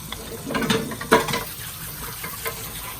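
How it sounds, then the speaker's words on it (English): Cut meat for menudo rinsed under a running kitchen tap, a steady close wash of water with a few louder splashes and sloshes as the pieces are moved about, no voices. "You want to make sure you rinse it really, really well."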